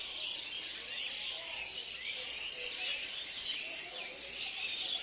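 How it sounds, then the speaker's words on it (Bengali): Dense chorus of many birds chirping and twittering from a bamboo clump at dusk, a continuous bright high-pitched chatter that stays loud and steady throughout, with no talking. "আর কি সুন্দর কিচিরমিচির করছে"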